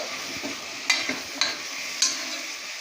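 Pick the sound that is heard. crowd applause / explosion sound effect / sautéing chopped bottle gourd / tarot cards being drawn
sautéing chopped bottle gourd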